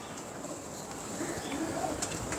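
Pigeons coo in a loft, soft and low, with a few faint bird calls over a steady background hum.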